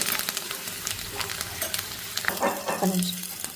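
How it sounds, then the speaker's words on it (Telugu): Tempering spices sizzle and crackle in hot oil with brisk popping, punctuated by stirring scrapes, close up and steady. "పోపు వేగుతుంది"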